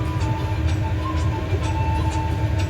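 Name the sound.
train locomotive running, Jaffar Express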